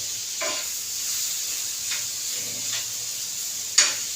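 Chopped onion roasting on a hot tava gives a steady soft sizzling hiss, broken by a few light scrapes of a spatula and a sharper tap at the end.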